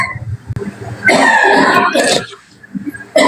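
A person coughs and clears their throat in a harsh, loud burst lasting about a second, close up. Quieter rough throat sounds and a short quiet pause follow.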